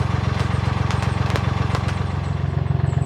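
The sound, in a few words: narrowboat engine running to charge batteries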